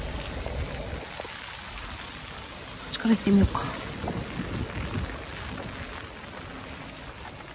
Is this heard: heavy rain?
yes